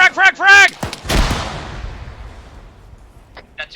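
A fragmentation grenade bursts in ArmA 3 military gameplay: a voice speaks first, then a single loud, sharp blast rolls into a long fading rumble and echo, with faint voices returning near the end.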